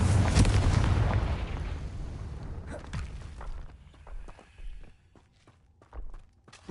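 A Confringo blasting spell explodes in the Hogwarts Legacy video game, with a loud booming burst at the start that rumbles and fades, followed by softer thuds and scattered impacts, and no talk.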